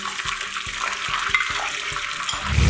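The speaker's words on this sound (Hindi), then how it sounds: "अब ये गोभी फ्राई हो गई है। मैं इसको निकाल रही हूँ।" A whole head of cauliflower crackles and bubbles in hot oil as it is lifted out, with rhythmic stirring or scraping knocks and a busy frying hiss throughout, swelling near the end.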